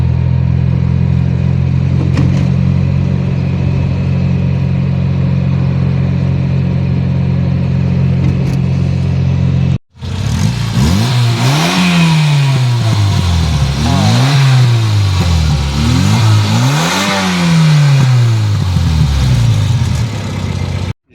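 Fiat X1/9 engine idling steadily at first, then after a brief cut revving repeatedly in rising and falling sweeps, close and loud, with no talk over it.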